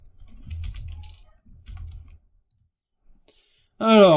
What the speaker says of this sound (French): il suffit simplement de taper le raccourci CTRL-K plus Z